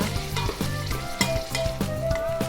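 Garlic and coriander root stir-fried in a pan, a steady close sizzle broken by regular scraping strokes of the spatula at a brisk rhythm.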